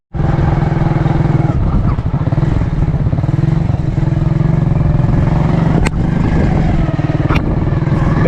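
A loud motorcycle engine idles and rumbles close by, steady and throbbing for the whole stretch, with a couple of sharp clicks.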